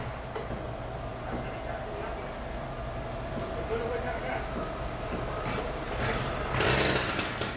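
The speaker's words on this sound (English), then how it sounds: "looks like they're starting up some kind of a chainsaw or something down here" A chainsaw drones steadily through a noisy outdoor construction site, with a harsh burst of grit near the end as it cuts concrete; voices murmur faintly in the background.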